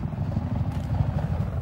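A helicopter in the video game Battlefield 4 gives a close, steady, loud rotor thrum with a low rumbling chop, heard alone without talk.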